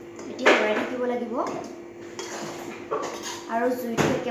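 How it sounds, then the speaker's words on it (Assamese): A spoon stirs and scrapes a hot wok of besan roasting for laddu, clattering in irregular strokes, close, with someone talking over it. "এতিয়া লৰাই থাকিব লাগিব"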